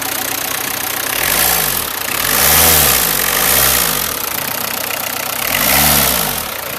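A Ford Escort Mk6 van engine runs after a jump start, a steady mid-pitched idle with several slow swells as the revs rise and fall, close and loud with no talk.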